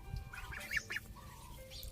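Ducklings give a few quick, soft quacks and peeps in a short cluster, close and fairly quiet, then trail off.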